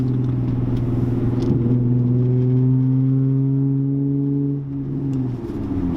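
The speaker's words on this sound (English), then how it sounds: "Just kind of cruising at 50 miles an hour in 5th gear, it doesn't sound too bad." A Genesis Coupe 3.8 engine drones while cruising at 50 miles an hour in 5th gear, a loud, even low hum inside the car that eases slightly toward the end.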